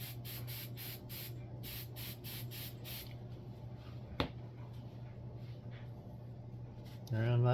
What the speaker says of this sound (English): I have just hairspray. Just give this a spray.